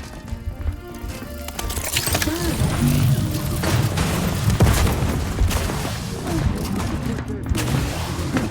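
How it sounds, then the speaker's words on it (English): Heavy explosion blasts and rattling gunfire during a firefight in the video game Outer Worlds 2, a dense, loud barrage of booms and shots that lasts for several seconds amid continuous combat noise. "Explosion imminent!"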